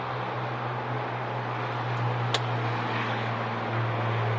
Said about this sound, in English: Sorry for the loud traffic there.